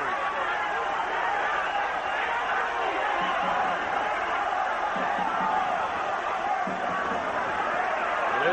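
A boxing arena crowd in Quito, Ecuador, cheering for the local fighter Segundo Mercado during a bout against Bernard Hopkins: a dense, steady roar of many voices with scattered shouts, heard at a distance throughout and blending with chatter.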